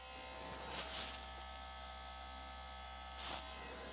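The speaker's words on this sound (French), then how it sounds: "La pompe, vous l'entendez, elle est en train de tourner." An electric water pump runs inside a 4x4 camper truck, giving a steady close electric hum and buzz with a faint whirring swell twice, continuous throughout.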